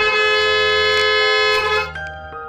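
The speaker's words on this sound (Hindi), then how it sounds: "ये हॉर्न मार मार के" A loud, sustained car horn blares continuously for a couple of seconds, then cuts to a shorter, quieter honk.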